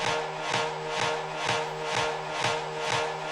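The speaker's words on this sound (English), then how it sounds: "basically doing a real-time reversed effect" A Logic Pro drum loop run through a real-time reverse plugin, with swelling, sucked-back hits pulsing about twice a second in a steady repeating pattern, moderately loud with no voices.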